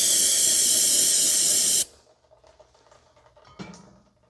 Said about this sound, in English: Just spray in the hub just to clean out any debris or dirt inside that may be in here.